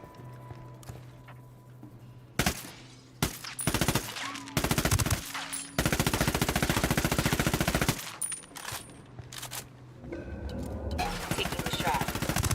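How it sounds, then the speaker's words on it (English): Bursts of rapid automatic gunfire in the video game Ghost Recon: Wildlands, long rattling volleys broken by short pauses and single shots, loud and close, with voices at times. "Tango heard the gunshot."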